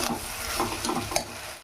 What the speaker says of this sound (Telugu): బాగా కలదిప్పుకుందాం.